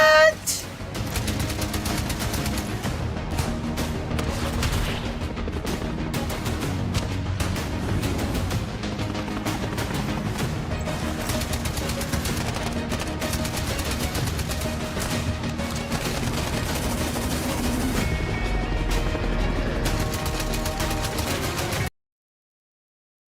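Rapid, sustained bursts of gunfire with booming reports fill the scene of police body cam footage involving a double-barreled shotgun, dense and continuous until an abrupt cutoff near the end.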